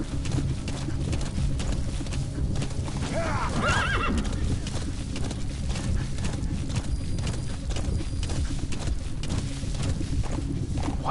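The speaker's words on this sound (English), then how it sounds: "Common horse." A horse whinnies loudly while hooves clip-clop in a steady rhythm, with some talking underneath, in the video game Metal Gear Solid V: The Phantom Pain.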